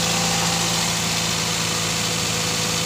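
A Toyota Vios car engine idles with a steady, even mechanical hum and faint vibration, recorded close up and continuous with no talk.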